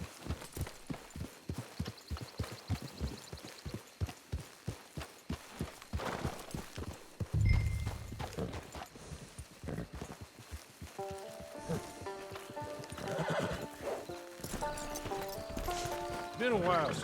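Horse hooves clip-clop steadily at close range in the video game Red Dead Redemption 2, with occasional snorts. A voice talks over the hooves, and a soft musical score rises toward the end.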